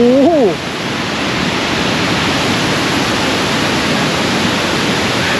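Tad Kuang Si waterfall near Luang Prabang roars as a loud, dense, unbroken wash of falling water, close and overwhelming, after a brief tonal voice-like sound at the very start.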